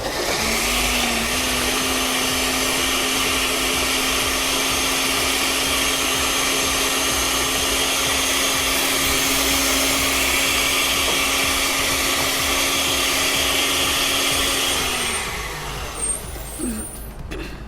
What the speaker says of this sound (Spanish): Y esto lo vamos a moler aquí